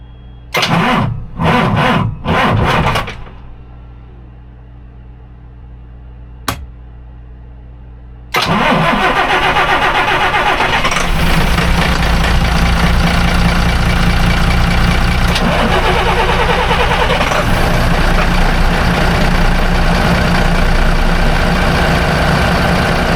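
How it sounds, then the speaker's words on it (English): A Silverton 42C boat engine cranks in several loud, close bursts, goes quiet, then catches and settles into a steady, loud, rumbling idle that runs on without a break. "I'm going to try to roll over the engine and see if it fires right up"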